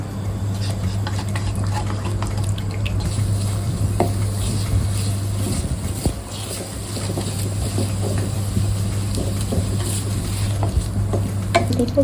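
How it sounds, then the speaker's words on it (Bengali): Eggs with salt frying in a pan for fried rice, a continuous close sizzle with scattered clinks and scrapes of utensils against the pan and a steady low hum underneath. "ডিম ভাজার আগে সেটি ডিমটা আমি ফার্স্টে ভেজে নেব"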